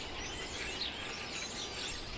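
A large flock of birds chatters in a tree in autumn in Indiana, a dense, continuous wash of overlapping chirps and tweets heard from below at moderate volume.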